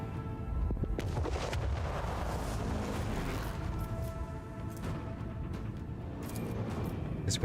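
Macro cannons fire during a space battle in the video game Warhammer 40k: Rogue Trader. Heavy booming blasts roll out under a constant, dense rumble of battle noise that lasts the whole stretch.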